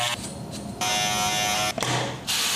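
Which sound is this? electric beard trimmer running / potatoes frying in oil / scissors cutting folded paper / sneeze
electric beard trimmer running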